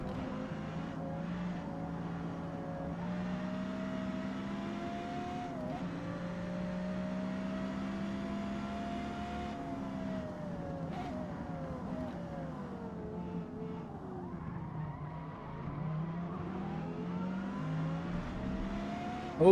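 Two V10 race car engines, 8.3 and 5.7 litres, drone and rev in Gran Turismo 7, a sustained tonal engine note rising and falling in pitch throughout with no speech.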